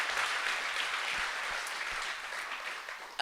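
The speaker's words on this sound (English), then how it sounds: "thank you for the applause" Steady applause from the audience at a talk on regenerative organic cannabis, an even wash of clapping held for about three seconds, with a louder burst right at the end.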